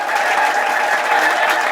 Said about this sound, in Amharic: ሚስቲ አጨብጭቡ ለእግዚአብሔር ክብር።